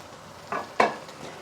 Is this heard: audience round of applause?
no